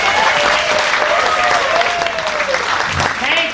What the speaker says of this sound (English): Nothing like applause